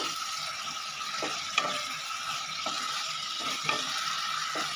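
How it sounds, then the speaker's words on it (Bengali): Fish in spice paste sizzling steadily in a pan while being stirred, with a constant close fry hiss and occasional soft scraping clicks from the spoon. "মশলাটার সাথে ভাজা মাছগুলো দিয়ে একটু ভালো করে মশলাটা দিয়ে মাছটা কষিয়ে নিচ্ছি"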